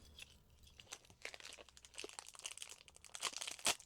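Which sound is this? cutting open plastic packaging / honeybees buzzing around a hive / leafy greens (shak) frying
cutting open plastic packaging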